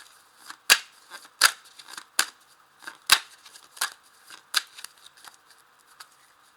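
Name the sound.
shuffling Persian tarot cards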